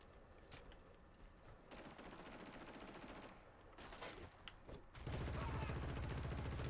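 Gunfire in the PS4 shooter Killzone Shadow Fall during a team deathmatch, with bursts of rapid automatic shots and a heavy sustained barrage near the end, all fairly quiet in the mix.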